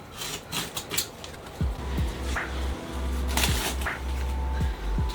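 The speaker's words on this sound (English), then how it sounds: "I'm gonna unbox that beautiful box, freshly sent from Primeweld." A shipped cardboard box holding a Primeweld TIG welding machine being unboxed, with close scraping, rubbing and handling noises and a few low thumps as the package is opened and shifted.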